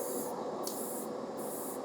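Airbrush spraying chrome paint onto a model car, a steady close hiss with three short bursts of stronger high spray that start and stop over a couple of seconds.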